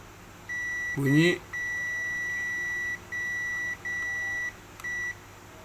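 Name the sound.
multimeter continuity test beep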